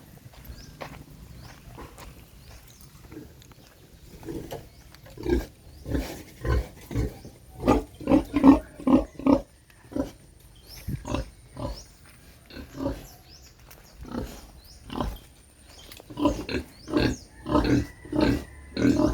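Pigs grunting repeatedly up close, a run of short rhythmic snorts that pause briefly, then resume in uneven bursts.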